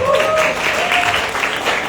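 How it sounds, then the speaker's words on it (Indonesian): Audience clapping at a premarital counselling workshop: a steady wash of applause with a few thin tonal squeals riding over it, fairly loud throughout. "Tepuk tangan."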